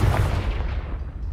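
A Confringo explosive spell in the Hogwarts Legacy game lets off a loud, close blast with a booming low body that fades quickly over about a second.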